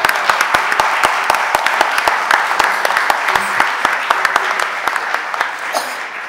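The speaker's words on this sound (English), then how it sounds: "Let's give them a round of applause." Audience applause in the Philadelphia City Council chamber during a stated meeting, a dense run of sharp claps from many hands across the whole stretch, steady and fairly loud, with no one speaking.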